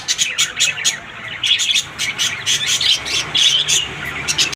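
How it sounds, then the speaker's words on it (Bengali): Birds in a cage at a pet-bird seller's, where Australian red doves are kept, give rapid, bright chirps and whistles that repeat in quick bursts, close and fairly loud with no voice over them. "দেখেন ওই যে শীষ দিতেছে, দেখতেই তো পারতেছেন এই যে সুন্দর করে শীষ দিতেছে"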